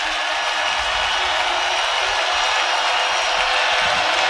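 Steady roar of an arena crowd at a college volleyball NCAA tournament match, continuous broadband cheering and murmur at constant loudness with no distinct claps standing out.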